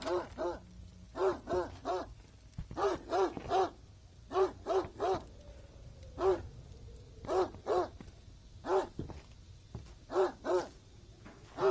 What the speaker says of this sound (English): Max, stop barking!